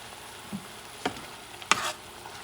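Squid ink pasta sauce with squid, shrimp and scallops sizzles softly in a pan, broken by three short scraping stirs, the last one the loudest.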